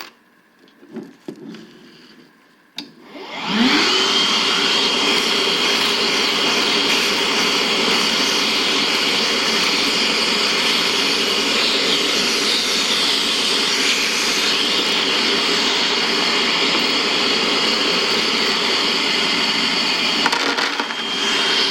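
A Kobalt 3 gallon cordless wet/dry vacuum, model KWDV 0124B-03, starts up after a few clunks and runs with a steady, loud motor roar and airflow hiss for most of the clip before cutting off at the end.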